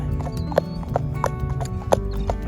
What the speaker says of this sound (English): a lot of big old draft horses, standardbreds, buggies going down the road